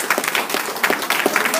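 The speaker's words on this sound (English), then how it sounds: "Can y'all clap y'all hands for this man." An audience claps for a man being thanked at an event. The claps are brisk, individual and fairly close, spread across a short burst.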